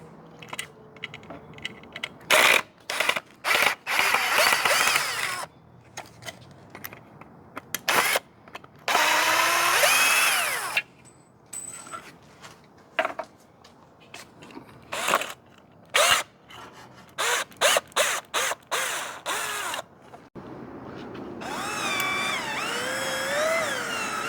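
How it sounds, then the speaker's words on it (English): A cordless drill whirs in repeated bursts, stopping and starting, with cracking and scraping as plastic is pried loose from a wall; a longer grinding run near the end. "we're going to use this drill to start removing it"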